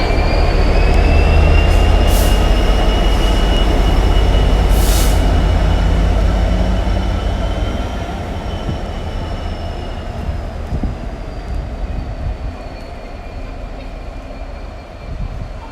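Passenger train at Newport station on the South Western Main Line, a loud close rumble of wheels and carriages with faint squealing overtones, slowly easing and fading as it pulls through.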